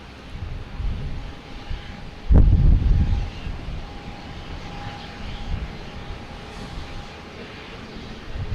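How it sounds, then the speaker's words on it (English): An American Airlines Embraer E175 jet arrives at Boston Logan Airport from LaGuardia, its engine a steady distant roar with a sudden louder rumbling burst partway through, under light wind noise. "we have American Airlines coming in from LaGuardia at E175"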